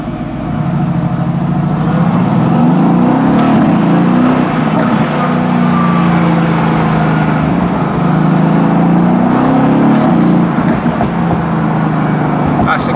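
A Mercedes-AMG GT S with its exhaust valves open revs hard, giving a loud, continuous engine roar that swells and eases through the clip.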